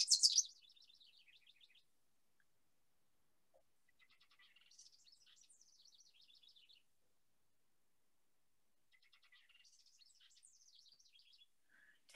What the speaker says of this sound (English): Here's a male house wren's bubbly song.